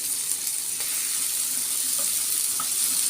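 Steady hot-oil sizzle of a kadhi tempering as a broken Kashmiri red chili goes in, a continuous hiss with a few small pops and no voices.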